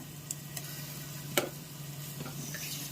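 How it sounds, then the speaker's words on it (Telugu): Ginger garlic paste frying in a pan for coconut rice gives a soft, steady sizzle, with a few faint clicks and taps of a stirring spoon. "ఇప్పుడు ఒక పెద్ద స్పూను అల్లం తెల్లగడ్డ పేస్ట్ వేసుకున్నాం. చూడండి, ఇది బాగా ఫ్రై అవనిద్దాము."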